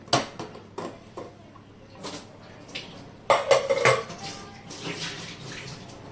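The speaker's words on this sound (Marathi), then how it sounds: "कुकरची शिट्टी झाली आहे आपण आता उघडून बघतोय" Metal clanks and scrapes of a pressure cooker lid being opened after cooking pulao, a few sharp knocks followed by a louder clattering burst, with no talking.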